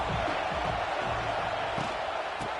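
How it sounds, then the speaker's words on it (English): Big football crowd in Happy Valley on third down, a steady, fairly quiet roar of many voices that fills the whole stretch without distinct cheers standing out. "Here comes the noise from this big crowd in Happy Valley on 3rd down."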